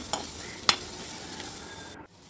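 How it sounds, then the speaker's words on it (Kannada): Bitter gourd with onion fries in a pan toward golden brown, a faint steady hiss punctuated by two sharp utensil clicks before cutting off abruptly. "ಚೆನ್ನಾಗಿ ನಾವು ಇದನ್ನು ಫ್ರೈ ಮಾಡ್ಕೋಬೇಕು ಗೋಲ್ಡನ್ ಬ್ರೌನ್ ಕಲರ್ ಬರುವವರೆಗೆ"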